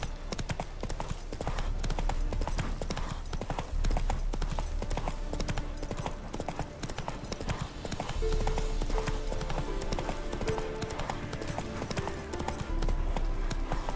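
Roach, a horse in The Witcher 3, galloping with a quick, rhythmic run of hoofbeats that continues steadily throughout against a game music backdrop.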